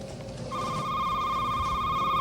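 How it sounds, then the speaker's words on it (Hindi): A telephone rings in a store simulator game, a steady electronic bell tone starting abruptly and sustaining loudly over a low background murmur. "ओके फोन कॉल आया है।"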